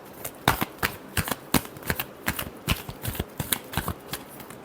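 A deck of tarot cards is riffled and shuffled close by, a quick run of crisp flicking snaps in uneven rhythm with no voices.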